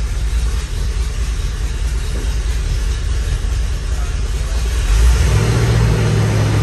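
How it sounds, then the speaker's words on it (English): Oldsmobile Cutlass engine idling low, then revved up a little near the end, the steady close-up rumble swelling louder for the last couple of seconds. "as soon as you rev it up,"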